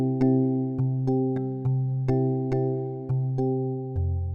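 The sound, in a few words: Afrobeat beat made in FL Studio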